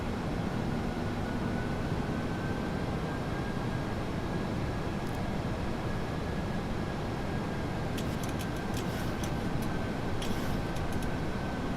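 Engines of a PMDG 737-800 airliner in the flight simulator game Microsoft Flight Simulator 2024 produce a steady, even drone during a landing approach with flaps set, accompanied by a faint constant whine and a few light clicks.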